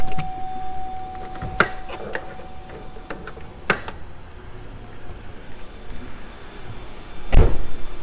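Power moonroof motor on a 2015 GMC Acadia, heard as a few light clicks and taps, then a short, loud whirring burst near the end, close by with no talking.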